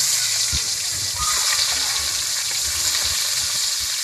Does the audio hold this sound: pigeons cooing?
no